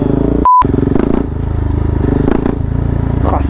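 A motorcycle engine drones steadily throughout, low and continuous, with a brief loud interruption near the start and a few clattering sounds on top while riding around Montpellier.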